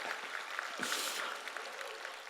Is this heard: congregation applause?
yes